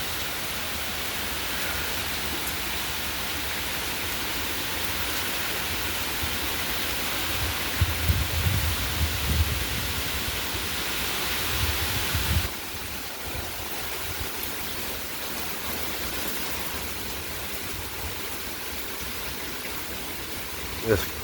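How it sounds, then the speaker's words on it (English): Strong hurricane wind and rain from Hurricane Francine near Slidell, a steady loud roar of gusts and pouring water that swells and drops back, with a heavier burst partway through. "It feels weird, this wind blowing, it's blowing in, then all of a sudden it's sucking back out."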